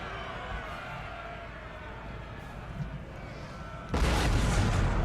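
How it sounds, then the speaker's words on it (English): Artillery volleys in a Napoleon Total War battle: a steady, dense rumble of massed cannon and musket fire, with a louder, brighter burst of firing erupting near the end. "Artillery setting off some final volleys."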